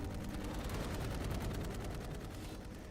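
Sustained automatic gunfire from the video game Dark Void rattles continuously in dense, evenly spaced bursts, loud and close with no pauses.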